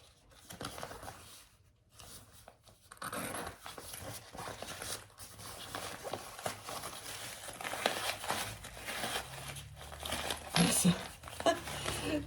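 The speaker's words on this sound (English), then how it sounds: "This fabric is very crunchy." Crunchy, stiff fabric being handled and turned right side out while sewing a clutch wallet, giving close, continuous crinkling and rustling under a person talking.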